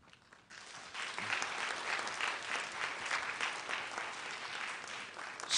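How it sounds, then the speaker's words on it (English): Audience at a school kick-off celebration applauding a pastor and congregation, a sustained, even round of clapping beginning after a short quiet moment and holding steady to the end. "So can we give Pastor Porter and Metropolitan another big round of applause?"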